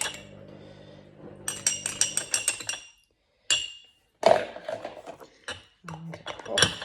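Homemade yogurt is stirred and mixed in a jar, giving a run of close, bright clinks and taps of a spoon against glass, broken by short pauses.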